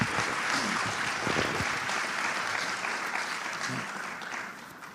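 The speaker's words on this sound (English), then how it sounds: "Please welcome him with a warm round of applause" An audience applauds warmly to welcome UN Secretary-General Ban Ki-moon at a collegian research paper competition, a steady dense clapping that holds for the full stretch before easing slightly at the end.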